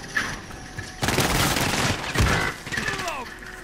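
Enemy gunfire in a video game, with rapid automatic bursts rattling over a noisy background and a voice speaking over the shots.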